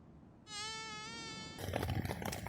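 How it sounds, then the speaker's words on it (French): A mosquito inside a tent on a rainy night whines close and thin for about a second, then gives way to rustling and patter. "ah tiens, un petit moustique"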